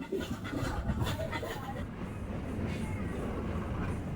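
The Nilgiri Mountain Railway toy train from Mettupalayam to Ooty gives a steady, rumbling, broadband roar heard from on board, with faint indistinct murmurs in the background.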